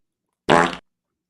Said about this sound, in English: Where the fart sound?